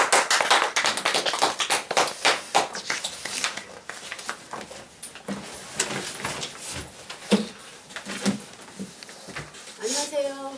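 An audience claps to welcome a presenter at a Korean book discussion session: dense, steady clapping for several seconds that gradually thins out, then a voice begins speaking near the end.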